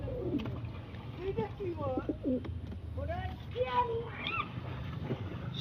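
Male racing pigeon cooing in a series of soft, low, rising-and-falling coos, close by, with someone talking intermittently alongside.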